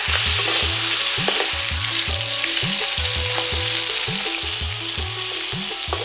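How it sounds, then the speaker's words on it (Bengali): Hilsa fish fries in hot oil while being cooked with elephant apple in a village kitchen. A close, continuous sizzle runs throughout, with regular low knocking from stirring. "গরম তেলে ইলিশ ভাজা বলে কথা, সুগন্ধটা নাকে এখনই সুরসুরি দিচ্ছে।"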